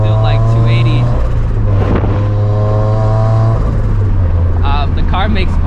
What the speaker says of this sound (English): just hearing the turbo spool up